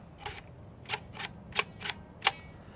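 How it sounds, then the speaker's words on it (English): Six soft, close mechanical clicks come in pairs, sharp and brief, a pinhole film camera shutter opening and closing via cable release, over a faint low hum. "when I push the button, it opens the shutter"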